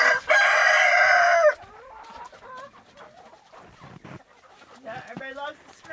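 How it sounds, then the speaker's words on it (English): A rooster gives one loud, close crow, then chickens let out of their pen on a frigid winter morning cluck and squawk in scattered bursts, with someone talking among them. "Good morning, chickens. Good morning. Chickens are out like they were shot from a cannon."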